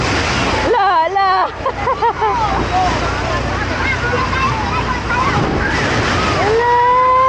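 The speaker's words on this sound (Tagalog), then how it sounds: "Malakas ang alon!" Strong waves surge and crash in a resort wave pool, a constant loud rush of water with excited people shouting and calling over it throughout.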